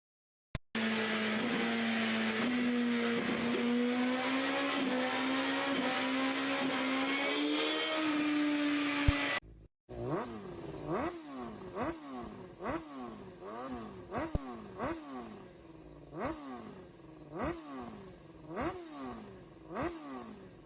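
Suzuki GSX 1000cc motorcycle engine, first a steady high-revving drone held for several seconds, then a run of sharp repeated throttle blips rising and falling, close and loud, with no talking.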